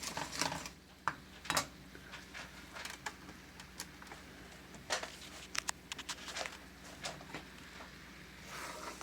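A utensil scraping and tapping in a pan while stirring a cocoa chocolate gravy mixture, irregular soft clinks and scrapes close by with quiet gaps, no talking.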